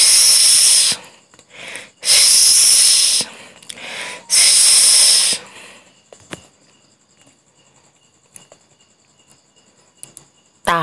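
A snake hisses in three loud, breathy bursts close by, followed by near silence with a few faint clicks.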